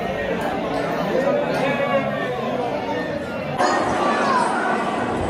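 Dense crowd chatter fills a busy Prem Mandir temple as worshippers queue for darshan, a steady wash of many overlapping voices with a brief lift in level partway through.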